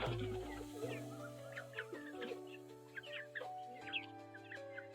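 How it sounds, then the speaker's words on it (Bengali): Several chickens cluck and call in short bursts near a pigeon coop on a cloudy, rainy day, over a steady low hum, with no talk. "মুরগিগুলোর অবস্থা দেখুন"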